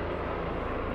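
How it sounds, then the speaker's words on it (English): A helicopter passing overhead during an outdoor show, a continuous loud broadband engine and rotor roar that holds steady without pause. "like this helicopter flying over the middle of our show"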